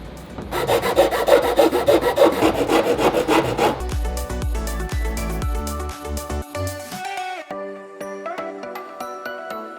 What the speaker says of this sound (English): you still have to put in the labor of scraping everything